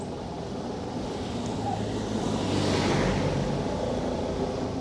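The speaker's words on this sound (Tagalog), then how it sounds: "Talagang maririnig mo yung hangin eh." Steady wind rushing past outdoors along a road in Paligawan, Laurel, Batangas, a low, even roar that swells a little midway, with no voices.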